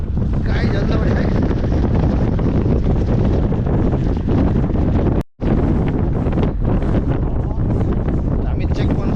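Strong wind buffets the microphone continuously on an open field along the Gurkha trail, a loud broadband rush with gusts, broken by a brief dropout midway; people talk faintly underneath.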